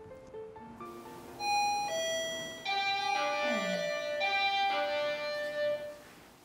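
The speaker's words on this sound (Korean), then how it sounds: "초인종 소리가 정막을 깨웁니다." A doorbell rings out in a bright, multi-tone melodic chime, several notes sounding clearly and ringing on through the quiet, with no talking.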